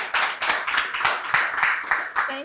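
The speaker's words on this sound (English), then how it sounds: "I want you guys to give a round of applause and a warm welcome to this wonderful interview candidate, Mike Trajean" A studio audience claps in a steady burst of applause welcoming a guest onto a talk show, with a voice briefly audible over the clapping.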